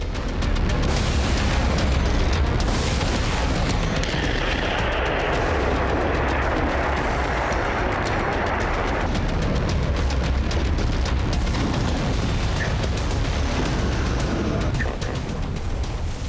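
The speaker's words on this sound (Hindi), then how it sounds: "मिसाइल से बरसते गोले, आग के शोलों में तब्दील होती इमारतें" Missile shells explode in the Russia-Ukraine war, a loud continuous roar of booms and blasts with sharp cracks over a rumbling low end that swells and settles over sixteen seconds, with no voices.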